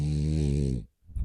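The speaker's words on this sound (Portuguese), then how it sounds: "Tá roncando aqui, ó." A single long, rumbling snore with a rough buzzing texture, close and fairly loud, fades into a brief silence before a faint stir of breath.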